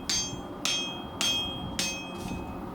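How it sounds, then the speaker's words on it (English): Hammer blows shaping hot steel for a tomahawk: four sharp, ringing metallic strikes at a steady pace about half a second apart, close and loud, each with a short bright ring, then a fainter fifth tap. "I switch between several different types of hammers depending on what kind of effect I want to have on the steel as I shape"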